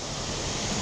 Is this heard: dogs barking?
no